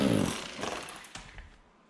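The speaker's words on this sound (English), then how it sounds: "Let the rotary hammer do the work, then lift up the mortar bed." A rotary hammer chips at a floor tile mortar bed over metal mesh lath, a loud burst of rough grinding that quickly tails off into a few scattered knocks and scraping debris.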